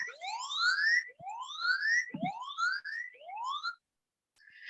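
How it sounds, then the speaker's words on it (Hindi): A phone safety app sounding its siren alarm even with the phone set to silent: four rising, whooping electronic sweeps in steady succession, then a short gap and the start of another tone. "आप देख सकते हैं यहाँ पे सायरन बज रहा है"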